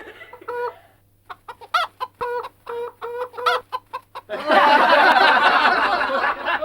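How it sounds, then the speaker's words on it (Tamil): A chicken clucks in a run of short, evenly spaced calls, loud and close, and then a burst of broad noisy sound takes over for the last couple of seconds. "நல்ல வெட கோழி போல் இருக்குது."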